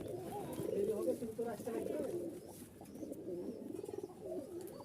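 A flock of giribaz pigeons in Rajshahi coo and burble close by in overlapping throaty phrases, with a low voice faintly underneath.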